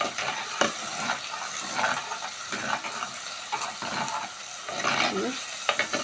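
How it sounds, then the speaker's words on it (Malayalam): Fish in a curry pan being pushed around with a ladle, giving repeated scraping and stirring strokes over a bubbling sizzle, close and irregular, with a voice faintly under it. "തവി കൊണ്ട് ഞാൻ നീക്കിയങ്ങിടുകയാണ്"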